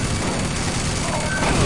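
Dense, continuous gunfire from an online 4v4 first-person shooter match, a steady loud wash of shots and explosions with faint voices under it.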